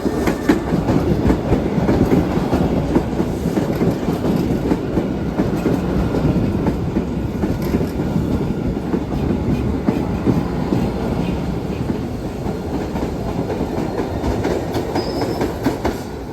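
A Boston Blue Line subway train rolls along the rails with a continuous loud rumble and rhythmic clickety-clack from the wheels, steady throughout with a faint brief squeal late on.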